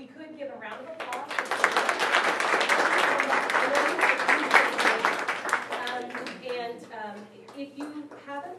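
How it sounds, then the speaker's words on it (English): An audience claps steadily, swelling then tapering off, while voices speak over the start and end of the applause. "So if we could give a round of applause."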